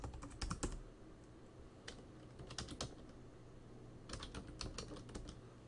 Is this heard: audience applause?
no